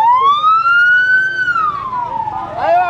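A loud, close ambulance siren wails in a long rising and falling sweep at a roadside emergency scene in a village, ending with a rapid yelp as traffic and faint voices sit underneath.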